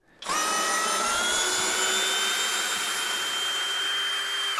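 A compact 20V cordless drill driver spins up abruptly while unscrewing and runs at a steady high-pitched whine for several seconds, loud and close, before cutting off.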